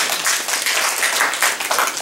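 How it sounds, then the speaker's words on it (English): Audience at a public speaking workshop clapping together, a steady dense patter of many hands sustained evenly for about two seconds with no pause. "Let's give ourselves some applause for being so honest."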